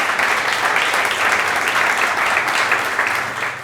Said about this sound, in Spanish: les voy a pedir que lo recibamos con un fuerte aplauso al doctor Daniel Stephen.